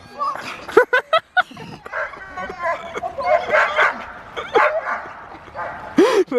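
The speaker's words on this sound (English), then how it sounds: "The dog is freaking out." Agitated dog by a river during a fishing outing, with repeated sharp barks, yips and high whimpers, close and loud, coming in uneven bursts.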